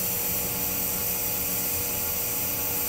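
TIG welding a root pass on pipe gives off a steady, unbroken electric hiss and buzz, close and even for the whole stretch, with no voices.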